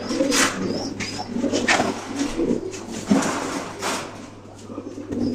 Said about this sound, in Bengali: তখনই কিন্তু এই সাদা কবুতরটা ডাকাডাকি